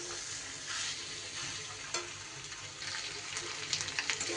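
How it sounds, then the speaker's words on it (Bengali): Chana dal, potato and pointed gourd sautéed with spices in a pan make a steady sizzle, with bursts of scraping and stirring and sharper crackles toward the end, moderately loud and close, with no talking. "মশলার সাথে কিন্তু ডাল, আলু, পটল সবই খুব ভালোভাবে কষানো আমার হয়ে গেছে।"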